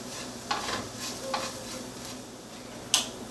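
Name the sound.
spices sautéing in a pan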